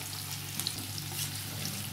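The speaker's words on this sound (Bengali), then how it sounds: "তাই আগে রসুন কুচিটা দিয়ে দিলাম, পেঁয়াজের সাদা অংশটা দিয়ে দিলে পেঁয়াজও দিয়ে দিলাম। তো এগুলোকে সব ভেজে নেবো।" Minced garlic and white onion parts sizzle in hot oil in a pan, a soft, steady hiss with faint crackles, close and alone.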